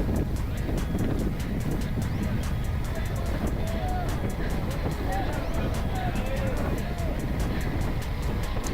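Strong, cold wind at a women's bicycle race roars and buffets the microphone throughout, a constant loud rushing noise with no pauses.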